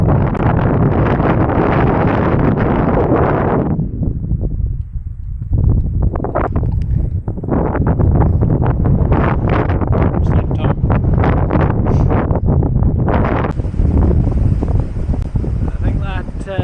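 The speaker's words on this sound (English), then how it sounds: "Currently battling into an almighty headwind" Strong headwind buffeting the microphone while gravel cycling on Dartmoor, a loud continuous roar with gusty surges and a brief lull midway, close and overwhelming throughout.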